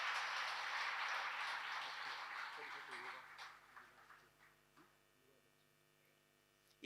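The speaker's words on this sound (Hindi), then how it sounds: "तालियां बजा करके अनुमोदना कीजिए" A congregation at an Upadhan Tap religious gathering at Shri Mani Lakshmi Dham in Ludhiana bursts into loud, dense applause that fades after a few seconds into scattered claps and room murmur, with a voice speaking over it.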